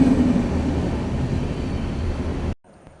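A train rumbles past with a steady, broad roar that cuts off abruptly near the end.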